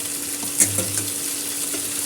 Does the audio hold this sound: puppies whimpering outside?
no